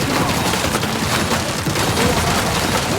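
Dense, continuous gunfire in the video game Resident Evil 4 playing as Hunk: rapid overlapping shots and bursts, loud and close, with no pause and no talk.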